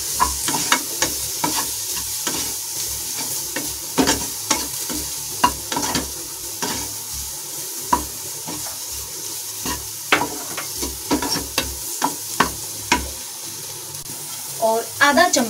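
A spoon works salt, black pepper and amchur powder into a mixture with repeated sharp taps and scrapes against the bowl, fairly loud and close, over a low continuous rustle.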